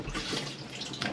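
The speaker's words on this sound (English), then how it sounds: "Press the button there and you'll see it's flushed." A motorhome cassette toilet in a Chausson Welcome 75 flushes, producing a short, steady rush of running water, close and fairly quiet, with a slight rise at the end.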